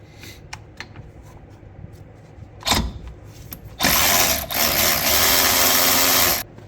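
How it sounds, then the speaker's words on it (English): A power tool spins out the 14 mm caliper bolts on the front brake of a 2017 Kia Soul, a loud, steady whirring burst lasting several seconds after quieter clinks and a brief thump. "So we're going to take off this bolt and the bottom one down here."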